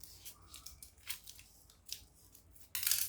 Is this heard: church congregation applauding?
no